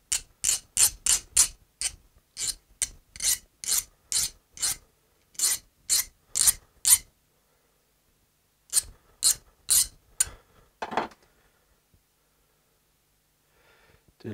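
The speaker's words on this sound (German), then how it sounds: "Einmal eine Mutter draufgeschraubt, abgesägt und jetzt noch ein bisschen entgraten" A freshly sawn-off screw with a nut threaded on is deburred with a file, rapid rasping strokes in steady rhythmic bursts, close and crisp, pausing midway before another run of strokes and a few scattered scrapes.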